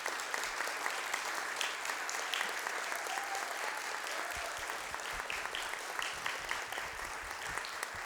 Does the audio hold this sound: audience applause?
yes